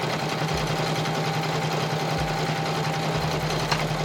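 A home sewing machine stitching vinyl hums steadily and closely, with a constant motor drone and a rapid needle chatter throughout, and faint low thumps now and then.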